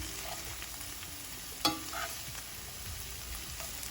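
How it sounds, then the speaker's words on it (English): Saltfish frying in a pan for Jamaican ackee and saltfish, a steady soft sizzle with a few gentle scrapes as the flakes are carefully turned, close and quiet with no talk. "Now you just want to take time and turn it with care"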